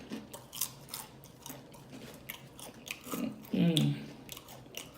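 Someone eats Flamin' Hot Doritos shrimp nachos close to the mic, with crisp bites and soft chewing crunches in short bursts and a louder crunch near the end, plus faint murmuring.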